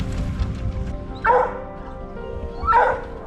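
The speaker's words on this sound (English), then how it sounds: "Lucy's getting the whines here. She thinks something's going on" Dogs whine and yip in two rising bursts, close and fairly loud, over a steady outdoor rumble while out fishing on the Withlacoochee.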